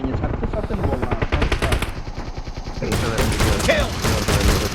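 Rapid bursts of shotgun fire in a PUBG Mobile team deathmatch, dense repeated blasts overlapping and sustained across the whole stretch, loud and close with ongoing battle noise.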